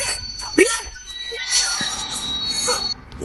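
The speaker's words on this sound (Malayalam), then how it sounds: "ഇതെന്താ നമുക്ക് ഗുഡ്സ് ട്രെയിൻ വരുന്നേ?" A goods train rolls past at a railway line, its wheels giving a high, steady metallic squeal over a rumbling wash of rail noise, with a few brief louder knocks along the way.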